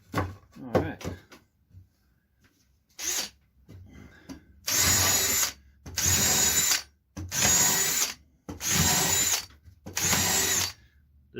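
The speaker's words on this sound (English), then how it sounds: "This cedar is so soft that you need to drill a pilot hole" A power drill bores pilot holes into soft cedar wood in five loud, even bursts of about a second each, with short pauses between them. Softer handling clatter comes first.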